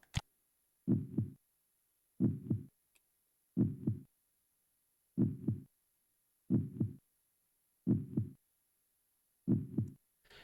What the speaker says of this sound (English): there's a popular heartbeat sound effect I've seen Commonly used in horror games